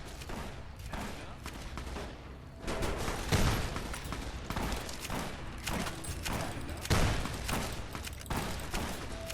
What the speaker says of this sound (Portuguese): Caramba! É só um tiro!